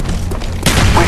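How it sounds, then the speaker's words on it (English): An explosive detonating in Call of Duty Black Ops on the Firing Range map, a single loud, close boom that bursts in suddenly and rumbles on, following a moment of background gunfire. "Explosivo fuera."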